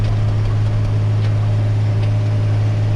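A loud, steady low engine drone with a strong hum, running constantly without change, like a tractor heard from inside the cab.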